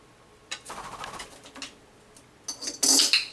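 A Senegal parrot makes a few short raspy calls and chirps indoors, ending in a sharper, louder squawk-like burst, close by with no talk.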